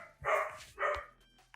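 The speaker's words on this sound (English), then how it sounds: "the dog went nuts. So you might have heard her barking in the background" A household dog barks twice in quick succession, faint and somewhat distant in the background, with brief quiet between the two sharp barks.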